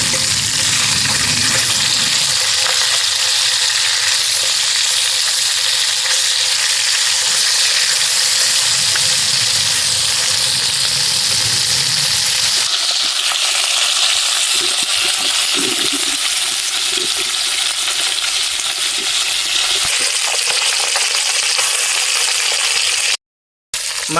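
Koi fish frying in salted oil for a village-style Bengali tel koi crackle and sizzle with a constant loud hiss and scattered pops, close to the pan, with no voices.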